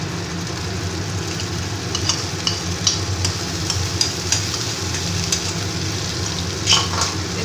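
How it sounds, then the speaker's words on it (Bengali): Masala with ground cashew, poppy seed and sour yogurt cooks in a pan over a lowered gas flame, giving a soft steady sizzle with a low hum beneath and scattered light scrapes of stirring. "গ্যাসের ফ্লেমটাকে কমিয়ে আমি এটাকে একটু নাড়তে থাকি"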